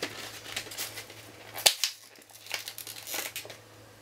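Plastic packaging of gel pens crinkles and tears open up close, a sharp snap or rip near the middle followed by softer rustling, with no talking.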